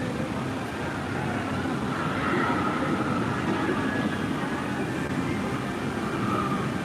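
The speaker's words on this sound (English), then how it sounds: "There's another train launching." A roller coaster train launches at Universal Studios during a Halloween Horror Nights evening, a steady distant rumble and whoosh spread across an outdoor park ambience with no break.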